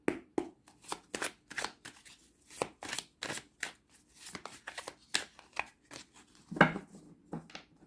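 A deck of tarot cards being shuffled by hand, with quick riffling bursts and soft slaps repeating steadily and close up, alone with no talk.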